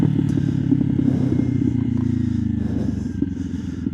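A 2025 Kawasaki Ninja 500se motorcycle cruises along, its engine humming steadily and close with a low, even drone and some clatter, holding one note before shifting slightly lower partway through.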